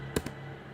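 A single key press on a computer keyboard, likely the Enter key, lands sharply and is followed by a softer second click. Both sound close, and a steady low hum runs underneath.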